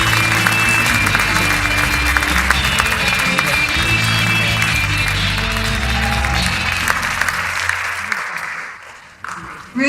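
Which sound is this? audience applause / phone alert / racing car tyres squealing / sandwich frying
audience applause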